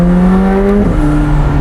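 A McLaren 765LT V8 revs loud and close, its engine tone holding steady before a sharp drop as the cylinder cut hits, with a brief bang on the shift and the exhaust resettling to a lower pitch.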